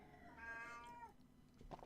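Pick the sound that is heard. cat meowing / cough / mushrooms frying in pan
cat meowing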